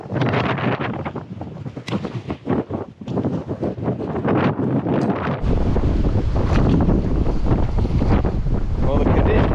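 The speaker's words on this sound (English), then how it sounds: "The wind's supposed to pick up even more." Strong wind of over 20 mph roars across a fishing boat at Oregon Inlet on the Outer Banks, buffeting the microphone in a loud, continuous rush with choppy gusts and water noise, growing even heavier toward the end.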